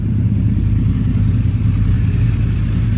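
A motorcycle engine idling steadily after starting up once its battery has been charged, a continuous low rumble that stays loud and close throughout, with no talking.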